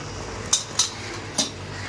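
A spoon scraping and knocking against a pot while chicken curry masala is stirred for Aagri chicken, three quick metallic clinks over a low simmering background.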